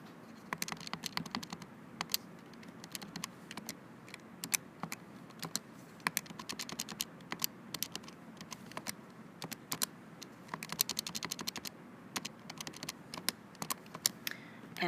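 Calculator keys being pressed while entering a factorial expression with parentheses, producing rapid, fairly steady close tapping clicks throughout, faint and without talking.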